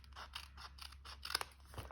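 Scissors trim a small edge of paper for a handmade card in a quick series of close, crisp snips over about two seconds, with a faint steady hum in the background.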